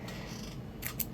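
Scissors trim wiring during a decoder install in a Williams ALCO PA model locomotive. A low, steady hum comes first, then two quick, crisp snips close by near the end. No voices are heard.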